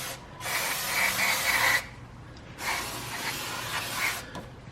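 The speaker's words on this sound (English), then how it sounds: "we'll go ahead and spray any parts that really get any kind of brake dust" Brake cleaner sprayed onto dusty brake parts of a 2007 Toyota Sienna: two sustained aerosol hisses close by, the first about a second and a half, the second about two seconds, with a short pause between them.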